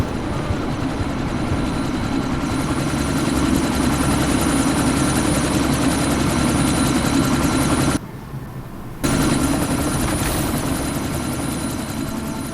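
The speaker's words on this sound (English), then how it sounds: "That chopper's about to take off!" A helicopter in Deus Ex Mankind Divided roars steadily at close range, loud continuous rotor and engine noise that cuts out for about a second before resuming.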